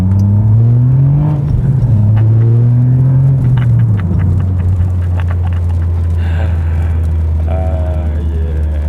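A Toyota GR Yaris pulls away and accelerates at low speed, its engine note rising and dropping through several gear changes, loud and close with a steady low rumble.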